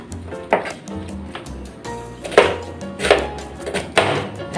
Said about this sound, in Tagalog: Nag-chop kayo ng karne.